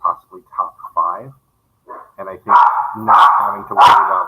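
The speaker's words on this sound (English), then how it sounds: "sorry for the dogs, they're super excited about what I just said." Excited dogs bark repeatedly in loud, close bursts that overlap and follow a man's speech, yelping in the second half.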